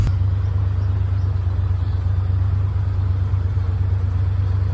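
Truck engine running steadily at a low, even rumble, loud and close, with no change in pitch and no voices.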